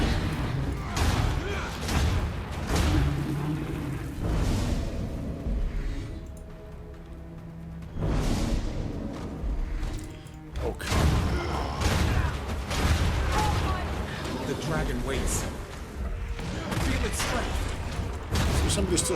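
Gunfire and mechanical clatter in Guild Wars 2 combat, with sustained, dense shots and impacts across the span, a brief quieter lull in the middle, and a player's voice talking over it.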